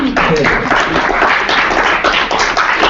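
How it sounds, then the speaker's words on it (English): An audience at a university sexuality studies stage show claps loudly and continuously in a dense, even burst of applause lasting a few seconds. "Round of applause, please"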